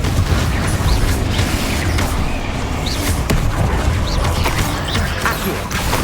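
Repeated Confringo fire spell blasts in the Hogwarts Legacy video game, loud booming impacts and crashing debris over a dense, continuous battle din, with several sharp hits spread through the clip.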